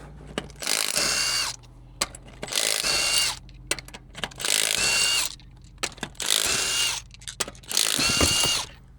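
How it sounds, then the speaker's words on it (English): A power tool spins lug nuts off the wheel of a Kawasaki H2 motorcycle, with five loud whirring bursts about a second long separated by short clicks and handling noises, heard up close with no speech. "let's pull the lugs off"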